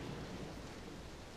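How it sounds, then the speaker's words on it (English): Rain with low thunder rumbling in the Dragon Quest Treasures video game, a steady wash of downpour over a deep rolling roar, quiet and continuous with no voices. "It's starting to rain."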